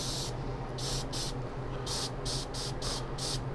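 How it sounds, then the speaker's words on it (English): An aerosol can of flat clear coat sprays Gundam model parts in a series of short hissing bursts, about seven of them at an even pace, close and steady against a low room hum. "It's just instead of the gloss, you're just spraying the flat."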